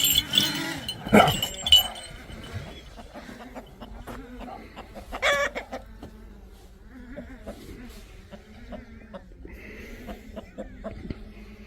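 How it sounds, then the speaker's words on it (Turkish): Chickens cluck and squawk in a busy yard, with a few loud calls early on and steadier low clucking throughout. "Kaç tane tavuğun var e, Özcan?"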